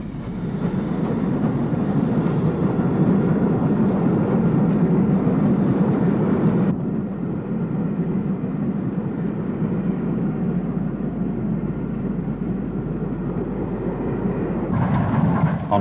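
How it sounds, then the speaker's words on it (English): British Standard Class 5 steam locomotive 73137, fitted with Caprotti valve gear, hauling a parcels train to Marylebone: a continuous loud roaring rumble of the passing train, steady throughout with a shift in tone partway. "This one, number 73137, was fitted with the same type of valve gear as Duke of Gloucester, Caprotti valve gear."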